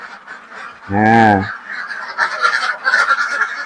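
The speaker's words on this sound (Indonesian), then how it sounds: "bebeknya ini sudah quack-quack, ini sudah ingin keluar" Laying ducks leave a semi-free-range pen with one loud, nasal honking quack up close, followed by a busy stream of softer quacks and chatter from the flock.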